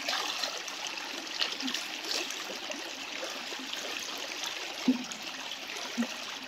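Water flowing in a shallow stream, a faint steady trickle and babble with a couple of small splashes, heard alone from nearby.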